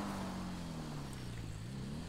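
A motorbike cruises along in GTA 5 on Cayo Perico, its engine a steady low drone that drifts slightly in pitch as it rides, fairly quiet and alone with no talk.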